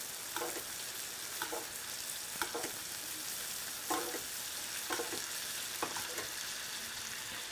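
A NY strip steak fries in a pan with rosemary on top, giving a steady close sizzle broken by regular stirring or scraping bursts about once a second.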